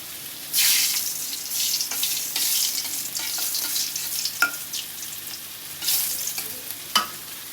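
Dried chilies sizzle and fry in hot oil in a wok, a continuous crackle broken by a few sharp pops and scraping stir strokes, close and clear with no talking.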